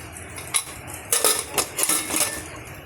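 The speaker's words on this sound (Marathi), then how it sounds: "आता आपण कुकरचं झाकण लावून घेऊया" A pressure cooker's metal lid clatters and clinks onto the pot several times in quick succession, close and fairly loud, with scraping as it settles.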